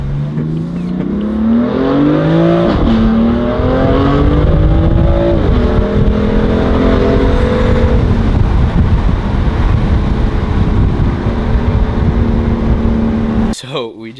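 BMW F80 M3 driving with its exhaust droning steadily and rising in pitch through several gear pulls, with wind noise and a voice speaking over it.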